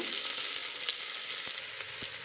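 Chopped onions for mushroom biryani frying in hot oil until brown, a steady bright sizzle with occasional pops and a brief stir, continuous and close.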